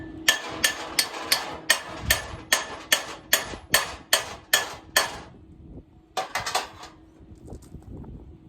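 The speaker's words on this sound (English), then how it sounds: "Right hammer for the job." Hammer blows on metal brackets in a metal fabrication shop, about fourteen sharp, ringing strikes in a steady rhythm, then a short pause and a few more hits.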